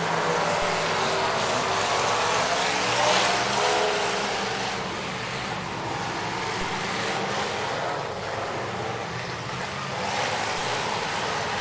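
Race cars roar continuously around a dirt track during a powder puff race, a broad, steady engine rumble with crowd-like wash rising and falling but never dropping out, no voices heard.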